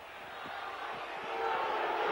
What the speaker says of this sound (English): The Warrington crowd down at the Fletcher end there not very happy and advising Mr.